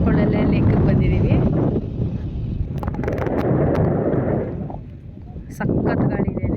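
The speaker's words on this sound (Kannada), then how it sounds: "ಸಖತ್ ಗಾಳಿ ಇದೆ ಇಲ್ಲಿ" Strong wind at Hirekolale lake roars and buffets the microphone in heavy, uneven low rumbling gusts, easing briefly before surging again, with voices faintly present underneath.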